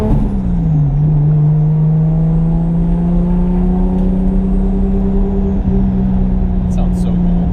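From inside the car, a turbocharged Toyota JZX100 Chaser engine holds a loud, steady boosted drone after a brief dip in pitch, with a faint click partway through and light high chirps near the end.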